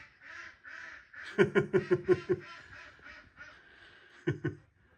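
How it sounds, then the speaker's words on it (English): Farm ducks quack in a quick run of six loud, close calls, then a pair of honking quacks near the end, over softer background bird chatter inside a rabbit barn. "I can hear the ducks laughing."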